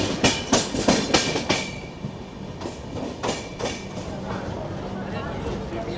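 A long-distance express train from Tatanagar to Jammu Tawi, train 18101, running late as it approaches Tatanagar junction, with loud rhythmic clickety-clack of wheels over rail joints early on, then a steadier rolling rumble.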